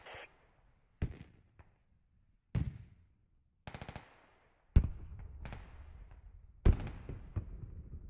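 Gunfire in the military shooter game Squad, with sharp single shots and short bursts, some close and loud and others softer, separated by quiet gaps and a few ringing tails.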